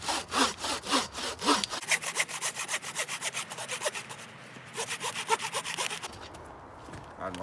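A BAHCO Force Ergo handsaw cuts through wood in quick, even back-and-forth strokes, close and rasping, about a dozen rhythmic pulls ending as the cut finishes.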